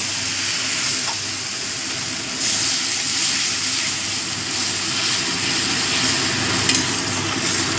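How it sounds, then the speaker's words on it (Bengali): Water splashes into a pan of frying lentil curry made with bean seeds, raising a steady, loud sizzle and hiss that holds throughout with soft stirring underneath. "অল্প একটু জল দিয়ে দিচ্ছি"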